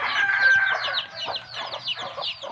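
Chickens and small chicks clucking and peeping in a continuous busy chorus, fairly close, with overlapping high chirps and lower clucks throughout and no talking.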